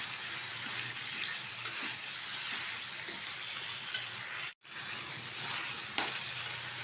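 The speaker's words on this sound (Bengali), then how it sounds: "এখন ভালোভাবে কষিয়ে নেব" Potatoes with ground cumin, ginger and tomato fry steadily in a pan, a continuous close sizzle with occasional stirring scrapes and no talking.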